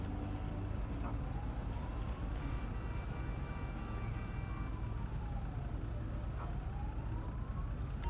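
Ambulance siren in GTA 5 with the LSPDFR mod, a St John's Ambulance Hyundai Santa Fe in New Zealand, a wailing tone rising and falling slowly over a steady engine and road rumble.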